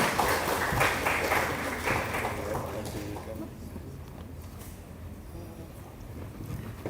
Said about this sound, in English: Please put up a round of applause.